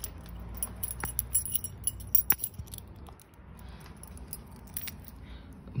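Metal keys jingle and clink close by while being tried in a stuck lock in a garage, with scattered small clicks and scrapes.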